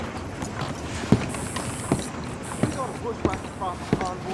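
Horse hooves clip-clop at a slow walk in the Red Dead Redemption 2 video game, a few spaced knocks under steady outdoor ambience while people talk.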